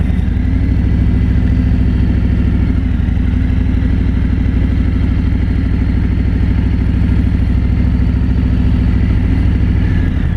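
A 2017 Harley-Davidson Road King Special sits idling close by, its V-twin producing a loud, steady, lumpy rumble with mechanical clatter and an even beat that holds for the whole stretch.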